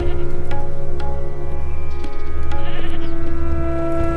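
Goats herded in a Rajasthan village bleat a few times over a steady outdoor hum, the calls short and close, with no talking.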